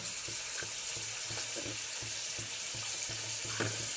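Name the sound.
onions frying in oil in a pan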